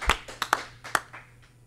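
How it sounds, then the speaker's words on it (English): A small group clapping for auction winners at a fundraiser event, giving a few sparse, uneven claps rather than full applause, close and fairly loud, with no talking. "let's give our winners a big round of applause"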